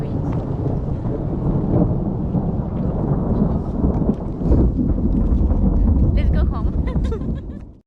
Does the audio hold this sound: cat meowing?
no